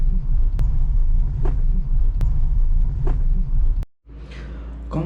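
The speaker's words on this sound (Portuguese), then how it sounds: "ele fez barulho, essa zoadinha. E pra mim, é como se fosse um plástico batendo" Renault Fluence suspension making a plastic-like knock, heard as a few sharp, sparse clicks over the steady low rumble of the car on the road, with a brief dropout near the end.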